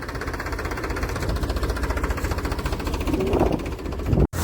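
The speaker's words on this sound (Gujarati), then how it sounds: "ફૂંકણી ચાલુ થઈ ગયું છે કેમ કે અહીંયા અવાજ આનો જાજો હોય છે" A heavy threshing machine runs nonstop with a fast, even thumping rhythm, loud and close throughout, threshing chickpeas.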